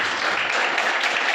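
Audience applause for a conference speaker at a church talk, a steady wash of clapping throughout the short stretch with no voices over it.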